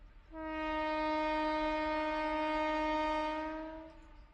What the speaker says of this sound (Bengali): এমন সময় ট্রেন ছেড়ে দিল।